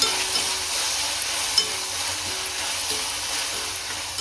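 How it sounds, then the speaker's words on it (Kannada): Tomatoes, onions and salt frying in oil for palak pappu, a steady close hiss and sizzle with occasional soft stirring scrapes throughout, no voices. "ಚೆನ್ನಾಗಿ ಫ್ರೈ ಮಾಡ್ಕೊಳ್ಳೋಣ ಟೊಮೊಟೊ ಎಲ್ಲ"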